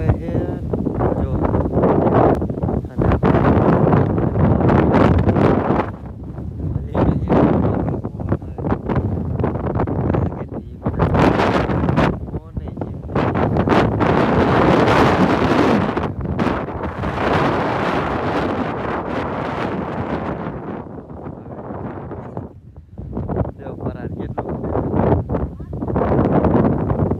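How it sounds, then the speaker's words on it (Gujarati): Strong outdoor wind roars and buffets the microphone in loud, continuous gusts that rise and fall over the whole stretch, with a voice faintly audible beneath. "આમ જો કેટલો પવન આવે છે જો."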